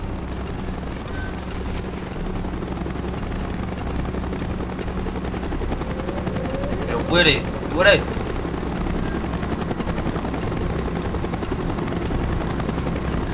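A helicopter in Call of Duty Black Ops holds a steady rotor drone throughout, with gunfire-like bursts around the middle, while a man calls out briefly over it.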